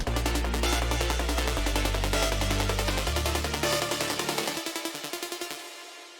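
A deep, sustained synth bass plays stepped low notes under a busy electronic beat, then drops out near the end leaving sparse percussion.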